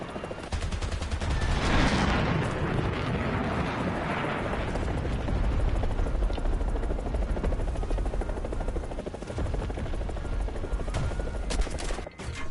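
Anti-aircraft gunfire from two AA guns in War Thunder, heard from a helicopter: rapid heavy cannon fire rattles continuously over loud rotor thumping, with a few sharper bursts near the end.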